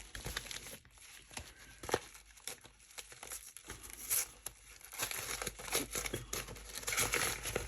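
Parcel packaging being opened, with close crinkling and crumpling plus a few tearing sounds in irregular bursts, no voices.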